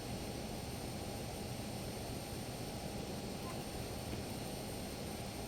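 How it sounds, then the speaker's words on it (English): A LearJet engine in a flight simulator game keeps spooling with a steady, loud turbine roar and a high whine that hold unchanged throughout. "I could hear the engine continue to spool"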